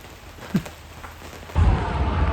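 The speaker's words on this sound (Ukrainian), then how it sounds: "Нарешті пішов дощ, закінчилось то сонце." A quiet outdoor hush gives way to a sudden steady rush of rain, with a low rumble underneath, after a single soft thud.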